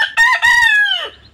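Chicks in a brooder give one loud, close, drawn-out call that slides downward before trailing off, with nothing else competing.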